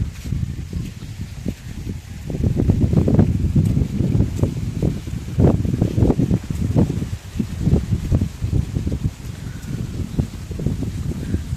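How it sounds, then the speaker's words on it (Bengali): Gusty wind blowing outdoors on a rainy day in rural farmland, a steady rough rumble with fluctuating buffets and some rustling throughout, fairly loud and close with no one speaking. "বাতাসও বইছে সেরকম।"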